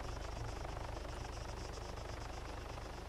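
Small helicopter flying in the video game Arma 3, its rotor thumping in a steady, fast rhythm over a dense, constant engine roar that stays loud and unbroken.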